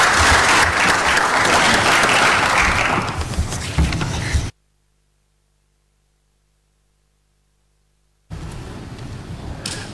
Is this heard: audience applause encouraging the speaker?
yes